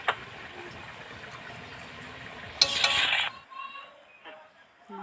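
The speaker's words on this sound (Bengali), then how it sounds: "নাড়াচাড়া দেবো।" A utensil stirs taro stolon curry with shrimp in a pan, with soft scraping and a brief brighter clink of metal on the pan, then quieter stirring.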